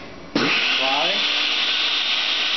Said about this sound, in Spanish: Tomamos azúcar y lo vamos a licuar.